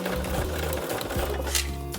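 A sewing machine back stitches a fabric bookmark, its motor and needle running in a steady, loud, close mechanical whir with a slight pulsing rhythm throughout.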